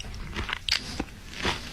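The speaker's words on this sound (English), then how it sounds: "the sound of someone chewing" Someone chewing food up close, with soft irregular crunches and bites at a moderate level and no talking.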